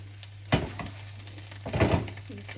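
Cheese sizzles as it is placed into a hot frying pan, with two brief louder bursts of crackling over a steady low frying hiss and a faint hum.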